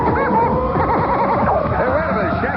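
A horse whinnies in several wavering, quavering cries, mixed under a voice talking over the top.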